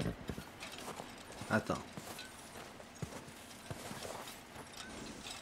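Horse hooves clip-clop in the video game Red Dead Redemption 2, a series of irregular close hoof strikes at moderate volume, with someone talking over them.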